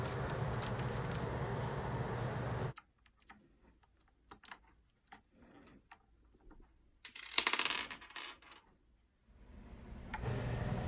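A wrench loosens and removes the tuner hardware from the front of an Ibanez Paul Gilbert MIKRO guitar headstock, giving quiet, close metallic ticks and small clicks after a burst of broadband noise, with a brief rattle of parts partway through.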